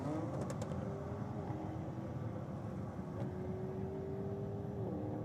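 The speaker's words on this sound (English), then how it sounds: "That Merc sounds so good when it goes down the track." An AMG Mercedes drag car races down the track at Sydney Dragway, a sustained engine tone rising in pitch, heard from a distance as a steady roar under a broad hum.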